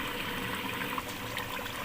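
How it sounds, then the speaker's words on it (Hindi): Two cups of water poured into simmering chicken biryani masala in a village kitchen, a steady close splashing pour that fills the short moment with no talk. "अब मैं इसमें 2 कप के बराबर पानी डाल के इसको दम पे लगा दूंगी।"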